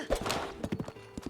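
Horse hooves clip-clop in The Legend of Zelda, a steady run of close, crisp hoof beats with a brief whinny-like sound near the start.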